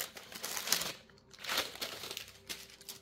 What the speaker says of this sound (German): jetzt packe ich erstmal die Tüte aus